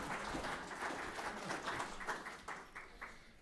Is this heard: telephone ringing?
no